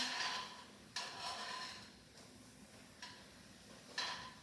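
Devil bread dough frying in hot oil in a home kitchen, a faint steady sizzle with soft clicks and light stirring or handling knocks every second or so, no voices.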